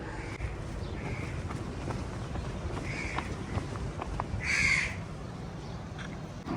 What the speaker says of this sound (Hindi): कौवे भी इंतज़ार में बैठे हैं